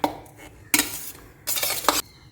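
Leftover cooked rice mixed with cumin, chili powder and salt in a pan, heard as a few distinct bursts of spoon scraping and clinking against metal, close, with quiet gaps between.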